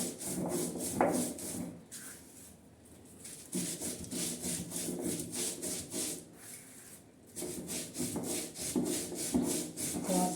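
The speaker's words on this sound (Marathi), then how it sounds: "हे बघा लसण मीठ आणि मिरच्या हे असं आबडतोबड वाटून घ्यायचा" Garlic, salt and red chillies being coarsely ground on a flat grinding stone, a close rhythmic rasping scrape of stone on stone in quick back-and-forth strokes, with a couple of brief pauses and no voices.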